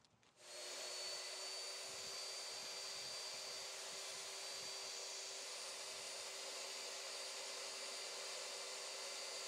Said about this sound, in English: Partway through the mixing, turn off the drill stirrer